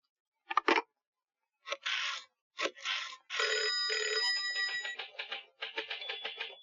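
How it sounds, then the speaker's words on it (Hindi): A telephone bell rings in short repeated bursts, a couple of single rings followed by a longer sustained jangle with a clear tone, then choppy rings at the end, fairly close with no talking. "एक फोन तिवाड़ी को हो जाए"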